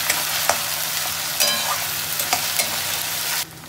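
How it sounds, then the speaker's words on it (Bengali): Onion sautés with ginger and garlic paste in a hot pan, a loud close sizzle broken by several scraping stirs and clatters of the spatula before cutting off abruptly near the end. "এটা পেঁয়াজটা একটু কষা হোক।"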